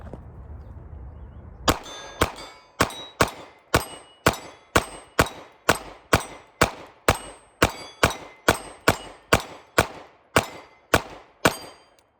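A Canik MC9 Prime pistol fires 124 grain Blazer ammunition at an outdoor range: about eighteen sharp, loud shots at an even, fairly quick pace after a quiet start, each with a brief ringing tail.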